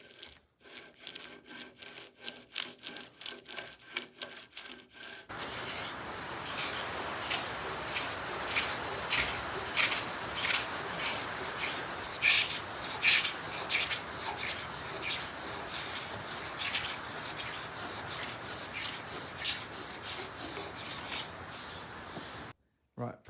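Varnish being stripped from the top of an aluminium alloy sailboat mast, heard as a steady close scraping and rubbing with repeated rhythmic strokes, after a few seconds of quieter intermittent scrapes at the start.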